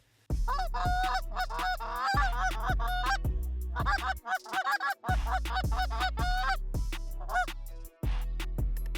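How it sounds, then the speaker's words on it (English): Canada geese honk loudly and continuously, many calls overlapping in a dense, raucous chorus close by, with a few brief pauses, over an oat field in Manitoba. "You get Canada geese, mallards."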